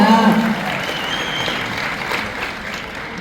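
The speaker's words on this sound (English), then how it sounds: "I think they deserve another round of applause" Convention audience at a Midsummer Scream panel breaks into applause, a sustained wash of many hands clapping that tapers slightly toward the end, with a brief voice at the start.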